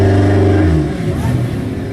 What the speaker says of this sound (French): La voiture qui suit, la Porsche numéro 27, Christine Laure,